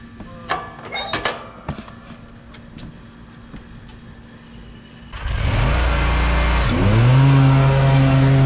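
A lawn mower motor straining as it cuts through tall, wet grass: after a few seconds of quieter ambient noise, a loud, steady engine roar starts, then deepens into a heavy labored drone with a strong, sustained tone.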